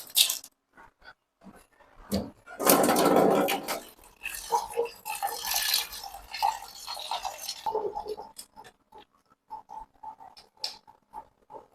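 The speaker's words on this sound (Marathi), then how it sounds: "याच्यात खिचडीत आपण थोडं पाणी ओतू आता." Water is poured into soaked khichdi in a pot at home: a burst of splashing pouring lasting a couple of seconds, then softer trickling and scattered clinks and knocks.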